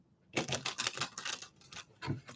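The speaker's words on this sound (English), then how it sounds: "I want to do one more shuffle," A deck of tarot cards is shuffled up close: a quick, fluttering riffle of crisp card clicks lasts over a second, then a brief second flick.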